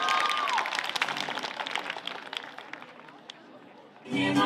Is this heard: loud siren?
no